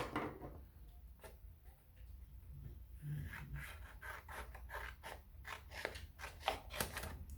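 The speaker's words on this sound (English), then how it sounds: "we're going to cut it in 2 pieces, just like this" Scissors cutting through material into two pieces, a run of soft snipping and rubbing crunches close by, gradually growing denser and sharper toward the end, with no talking.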